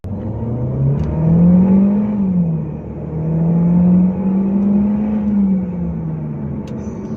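A Volkswagen Lamando with a turbocharged 1.4-liter engine and 7-speed DSG accelerates, its engine note rising and falling through steady, moderately loud revs for several seconds with no talk.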